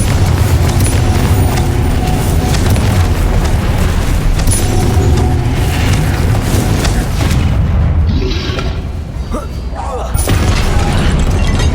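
Explosions from the Confringo blasting spell in Hogwarts Legacy, heavy booming blasts over dense, loud game action that stays busy throughout, easing briefly near the end before another burst.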